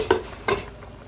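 Fried aar fish pieces dropped one by one into boiling curry, two distinct splashy plops with brief sizzle bursts close up, followed by a low bubbling simmer.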